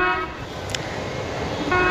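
Short blasts of an Indian Railways train horn, a steady harmonic tone, heard at the start and again at the end over continuous rumbling background noise.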